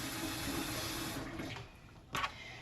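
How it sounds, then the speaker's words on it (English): Water runs from a tap into a cup, a steady pour that stops partway, followed by a brief clink, close by and alone. "put my water in."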